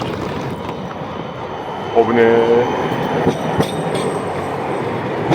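A tram rumbles past close by on a street in Oslo, Norway, on New Year's Eve, with a brief metallic wheel squeal, while a man briefly exclaims amid street noise.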